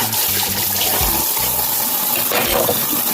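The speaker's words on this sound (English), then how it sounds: "so now I'm washing my sink again because I'm gonna wash the vegetable next" Tap water runs steadily into a kitchen sink as it is washed, a loud continuous splashing rush with small surges of spatter and no speech over it.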